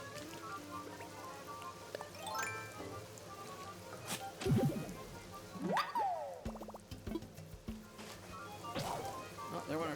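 Animal Crossing: New Horizons game audio with a shovel breaking, a springy boing and plopping tones amid light rain patter and chimes, the break landing midway before faint game music carries on.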